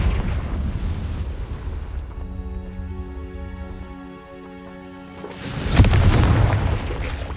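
Confringo spell blast in Hogwarts Legacy, a deep booming burst that swells up near the end after a steady tonal hum, loud and rumbling with no voices.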